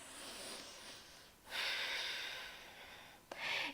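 A slow, deep breath drawn in during a yoga flow, an airy hiss that swells, pauses briefly and returns in a second short draw, close and soft with no talking.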